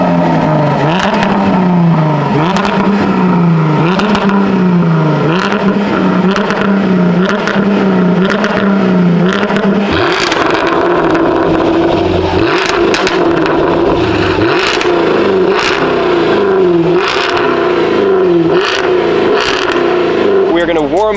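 Jaguar F-Type R and Jaguar F-Type V6 Supercharged revving at a sound check before drag and roll racing, loud repeated throttle blips with rising and falling engine notes, then a sustained higher growl, near and alone.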